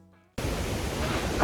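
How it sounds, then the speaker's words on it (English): A roaring Yosemite waterfall bursts in abruptly as a thick, steady broadband rush that stays loud and constant after a brief quiet start. "the thing that other videos haven't talked about is the sound of this waterfall"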